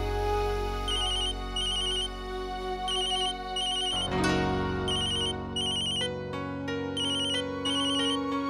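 A phone ringtone plays a repeating electronic melody with bright chiming notes, steady and close, pausing briefly midway before continuing.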